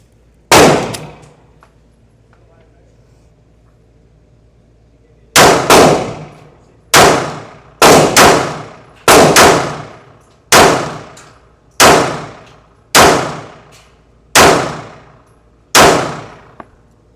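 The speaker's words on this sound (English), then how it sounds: "So I'm going to shoot the non-comp, and then we're going to go back into the comp. 12 rounds." A Smith & Wesson Bodyguard 2.0 .380 ACP pistol fires one loud, sharp shot, then after a pause a rapid string of about a dozen more cracks, each ringing briefly. No one talks.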